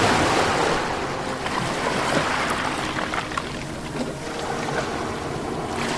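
Ocean surf rolls in and washes back continuously, a broad, steady rush with some wind noise, heard alone with no voices.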